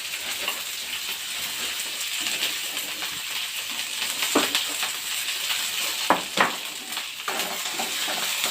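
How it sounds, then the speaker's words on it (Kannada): Tempering crackles in hot oil for cowpeas in a village kitchen, a continuous close sizzle with spoon stirring and a few sharp pan clanks and pops toward the end. "ಈ ಕಡೆ ಅಲಸಂದಿ ಕಾಳಿಗೆ ಒಗ್ಗರಣೆ ಕೊಟ್ಬಿಡ್ತೀನಿ."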